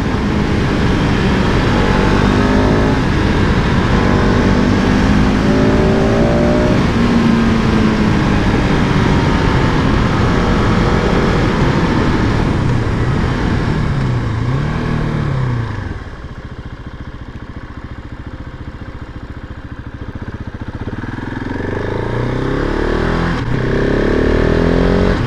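A 2019 KTM 690 SMCR supermoto motorcycle is ridden hard, its single-cylinder engine roaring loud and close with rising revs and gear changes, dropping briefly before accelerating again, alongside heavy wind noise.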